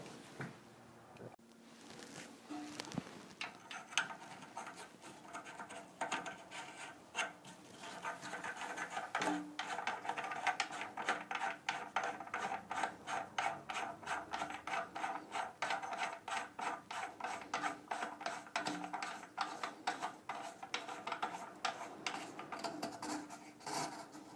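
A new plastic nut is threaded by hand onto the bottom of a TOTO replacement fill valve (TSU99A.X), giving a close, steady run of dry rasping and scraping clicks that repeats rhythmically with no talk.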